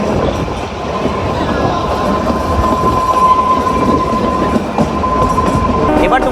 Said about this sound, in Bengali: আস্তে আস্তে আমাদের টয় ট্রেন পাহাড়ের উপরে উঠে যাচ্ছে